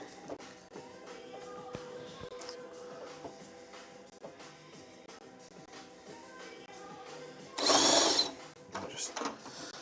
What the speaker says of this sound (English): Time to drill the holes.